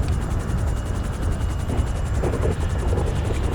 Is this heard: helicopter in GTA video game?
yes